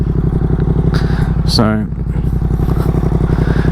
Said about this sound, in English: show you what I mean by my exhaust. We'll leave the bike running.